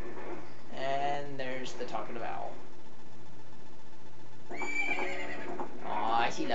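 A horse neighs twice in the video game Ocarina of Time, the calls separated by a quiet gap, with a voice talking faintly around them.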